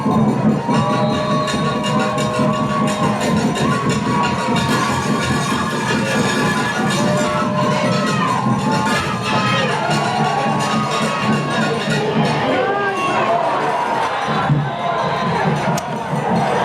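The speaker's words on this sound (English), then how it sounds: "A lot of cheering for the defense." Crowd cheering and shouting fills a high school football game, the NHFA finals between the LCA Chargers and Tomball Warriors, loud and sustained throughout with no break as fans roar for the defense.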